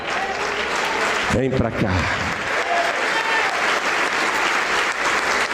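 A church congregation applauds steadily and loudly throughout, with a voice briefly calling out over the clapping.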